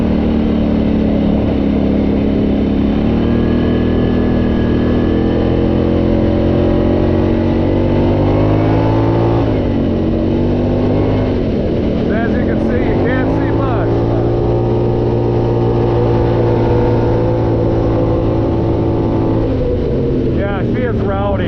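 A Honda 450 ATV with an RPM exhaust roars continuously, its engine droning loud and close with rising and falling revs as it pulls hard, and people talk over it at times.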